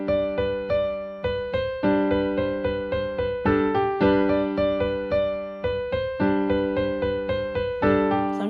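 Easy arrangement of a song on piano, steady rhythmic chords with left-hand notes landing on beats one and four, clear and close with no talking.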